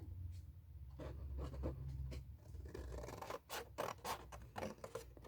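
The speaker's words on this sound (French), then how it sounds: "Je vais prendre des ciseaux plus petits parce que ça, c'est un peu des grands." Small scissors snipping through paper while making a little gift box, a run of quick close cuts and crisp rustles, loudest in the second half, with a low steady hum underneath.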